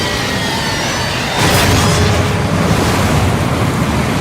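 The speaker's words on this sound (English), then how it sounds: "A massive tsunami now races toward the shore." A huge tsunami wave crashes ashore in a Roblox dinosaur game, a loud surging roar that rises sharply and then holds as a continuous rushing wash of water and wind, with no voices.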